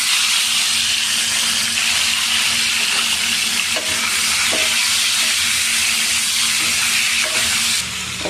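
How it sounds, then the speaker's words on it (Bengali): Turmeric is tossed into hot oil for dal tempering and sizzles loudly and steadily, a bright continuous frying hiss close up with a few small pops and no talk. "এখন তেলের মধ্যে আমি হলুদ দিয়ে দিই"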